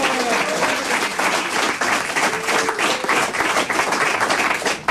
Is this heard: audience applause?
yes